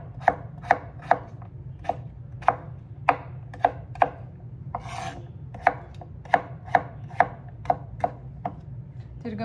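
A kitchen knife chops food on a cutting board during home dinner prep, about sixteen crisp, steady strikes close by over a low background hum, with no talking.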